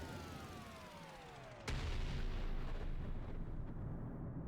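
Bombs detonate and missile turrets fire in the real-time strategy game Artificial Extinction 2: a sharp, loud blast midway hits hard and leaves a dense, rumbling roar under a descending whistle.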